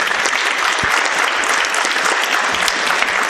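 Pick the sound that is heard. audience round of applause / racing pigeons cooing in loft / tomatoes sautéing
audience round of applause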